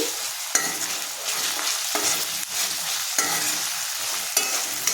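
Masala paste for a prawn and okra curry frying in a pan, loud continuous sizzling broken by repeated scraping stirs every second or so, with no voices.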